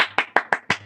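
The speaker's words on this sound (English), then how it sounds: "A big round of applause for Cheta" Five sharp hand claps sound close and alone at an even pace within a second, a small round of clapping for Cheta.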